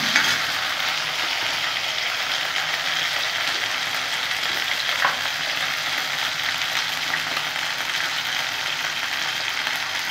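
Potatoes fry in a pan with a dense, even hiss of oil that holds steady and close the whole time, with faint occasional scrapes and no talking.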